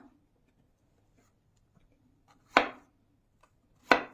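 Two sharp knife chops slice through mushrooms on a cutting board about a second and a half apart, crisp and close, with quiet in between.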